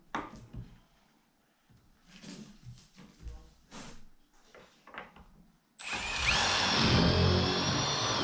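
A power drill drives pocket screws set with a Kreg Jig during a bathroom wall framing job, starting with a loud, sustained whir after soft handling noises and quiet speech.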